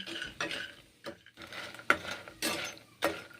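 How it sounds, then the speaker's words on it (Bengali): Lentil dumplings (bori) frying in mustard oil in a pan, heard as a series of close scraping stirs and clinks with a light sizzle underneath. "বড়ি ভাজা দেবো ডাঁটা চচ্চড়িতে তাই বড়িগুলোকে ভেজে নিচ্ছি"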